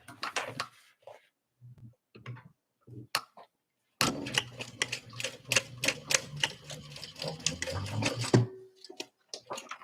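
An industrial sewing machine stitches a tote bag in short, rapid mechanical runs of ticking clatter over a low motor hum, preceded by a few quieter isolated clicks.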